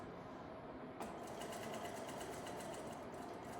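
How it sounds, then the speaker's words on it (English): A sewing machine edge-stitches over a label on a pants patch pocket, running close and steady with a rapid, even needle chatter throughout. "I'm gonna go ahead and just edge stitch right up over that label."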